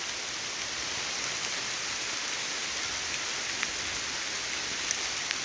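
Steady rain falling during a morning of fishing, a dense continuous hiss with occasional faint drop ticks, even and close, no voices.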